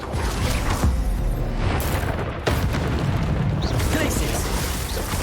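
Bombarda spell blasts in Hogwarts Legacy, loud booming explosions layered over continuous combat noise, with sharp bursts standing out and a voice speaking.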